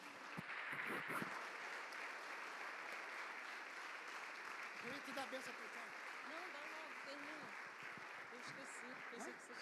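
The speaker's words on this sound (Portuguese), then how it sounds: "Você pode aplaudir a Jesus?" A church congregation at a Sunday service applauds steadily in a large room, a dense continuous patter of clapping with faint voices mixed in.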